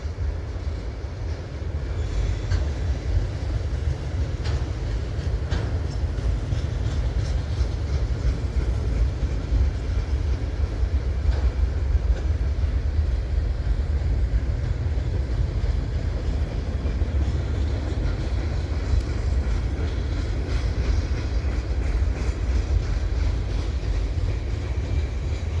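A Canadian Pacific auto rack freight train rolls around a bend in a snowy winter setting, a continuous heavy rumble with faint scraping wheel noise, steady and fairly close for the whole stretch.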